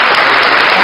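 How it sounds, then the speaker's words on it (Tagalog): Loud, dense applause from a crowd fills the moment, a steady wash of many hands clapping close by with no gaps. "Palakpak dapat."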